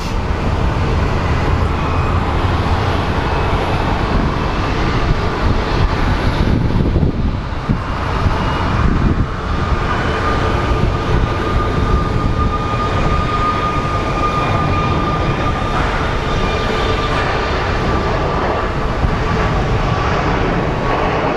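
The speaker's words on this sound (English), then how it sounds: "we usually get our heavy rotation of Southwest planes departing, trying to beat the heat" Southwest jet airliners departing Phoenix Sky Harbor airport on a hot morning, a loud, sustained broadband engine roar that stays steady throughout with a brief dip midway.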